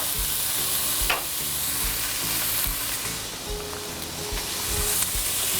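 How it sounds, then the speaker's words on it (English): Food sauteing lightly in a pan gives off a steady, close sizzle and crackle that runs without a break, with no voices over it. "So now we're just sauteing them lightly."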